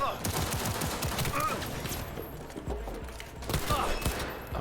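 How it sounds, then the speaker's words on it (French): Machine gun fire in Cyberpunk 2077 rattles in rapid, dense bursts, with a voice talking faintly underneath. "Oh, machine gun."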